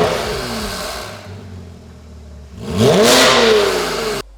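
A Porsche 987 Cayman fitted with a Rennline valved exhaust revs hard after a quieter idling stretch, the engine note climbing and sweeping upward before cutting off abruptly, loud and close with no talk.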